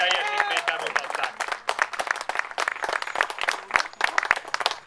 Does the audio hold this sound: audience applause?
yes